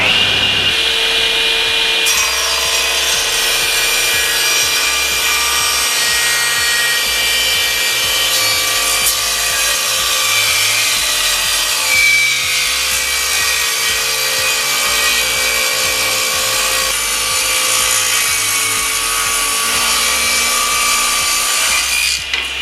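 A SIP CTS10D 10-inch floor-standing circular table saw runs steadily while wood is pushed through the blade, giving a loud, continuous high-pitched whine and rasping cut with no pauses.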